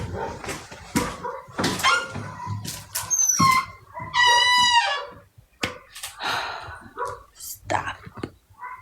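A small dog barks and yelps several times during a casual indoor livestream, the high barks interleaved with people talking nearby.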